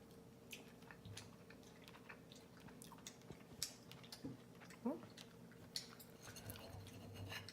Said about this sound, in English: First taste test of the dollar store, Dollar Tree pork chop